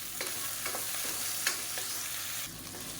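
Radish and tomato sauté for a kurma in a hot pan, a steady sizzle broken by several scraping stirs of a spoon, close and clear.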